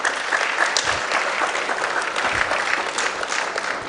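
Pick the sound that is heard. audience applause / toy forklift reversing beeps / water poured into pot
audience applause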